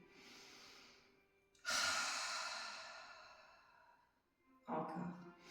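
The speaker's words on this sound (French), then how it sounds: "Tu inspires profondément par les 2 narines et tu vas expirer par la bouche" Two slow, deep breaths drawn in through the nose and let out through the mouth during a yoga barre class. Each is a long, soft airy rush, close and fairly quiet, with a pause between them.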